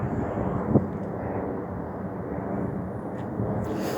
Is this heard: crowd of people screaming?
no